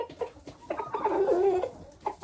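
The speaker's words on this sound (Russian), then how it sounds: "выгнал вот эту черную курицу" A black hen clucking close by in a backyard coop, a few short clucks rising into a longer drawn-out squawk, then another brief cluck, with no speech.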